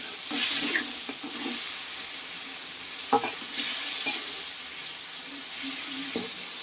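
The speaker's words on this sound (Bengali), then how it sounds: "সামান্য একটু জল দিয়ে দেওয়া হচ্ছে যাতে মশলাটা পুড়ে না যায়" A spice paste for a fish curry with ridge gourd sizzles steadily in a pan after a splash of water, with a constant frying hiss and occasional scraping stirs, close and without talk.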